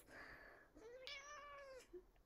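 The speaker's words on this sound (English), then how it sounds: "This is my kitty, Norma Desmond." A pet cat meows several times in a row, a short cry followed by longer drawn-out meows, close to the microphone with no talk over it.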